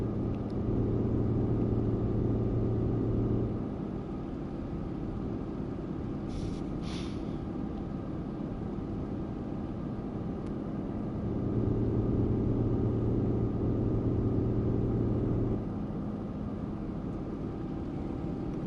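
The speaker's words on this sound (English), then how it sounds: "We'll just enjoy some of the lorry noises now." A lorry cab carries a steady low engine drone and road rumble, with a droning engine note that rises for a few seconds at the start and again later, and a brief hiss partway through.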